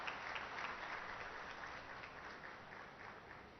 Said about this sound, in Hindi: तालियों की गड़गड़ाहट से इनका उत्साहवर्धन हो।